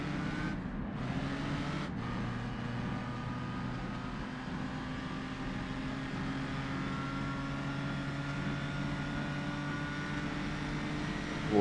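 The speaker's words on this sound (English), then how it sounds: "can hear the downshifts and all that stuff as he tries to keep the car under control" A race car at speed on the Isle of Man time trial course, its engine droning loud and steady throughout, with pitch changes as the driver works through downshifts.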